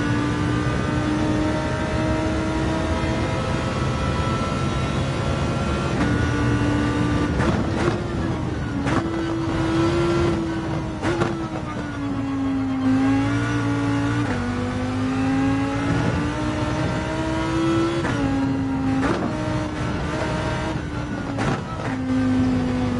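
Racing car engine lapping the Suzuka circuit in a video game, a loud continuous whine rising and falling as it accelerates, shifts and brakes through corners, steady throughout.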